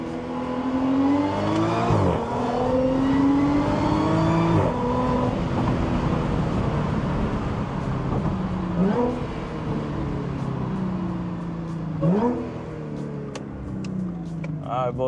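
A 400-horsepower Audi S4 accelerates hard on a scenic road, engine note climbing steeply through the gears with sharp drops at each of several upshifts, loud and close from inside the car.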